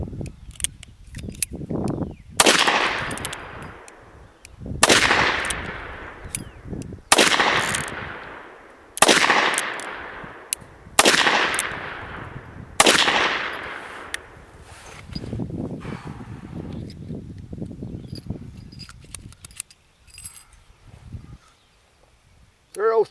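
Several sharp .38 Special gunshots from a Colt Peacemaker revolver, about six loud reports spaced a couple of seconds apart, with brief voices between shots and a softer stretch of talk and handling noise at the end.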